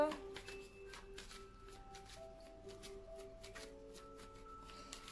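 Tarot cards are shuffled for a love card reading, a soft, close riffling and flicking in repeated bursts over a faint tonal background hum.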